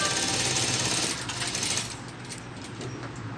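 A sewing machine runs steadily while stitching around the edges of a three-layer 3D fabric face mask, a continuous mechanical whir that eases off slightly partway through, heard alone.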